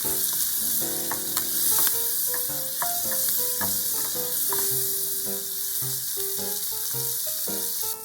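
Corn kernels fry in a pan for Japanese onigiri, with a steady dense sizzle and scattered clinks and scrapes of stirring throughout, close and fairly loud with no voices.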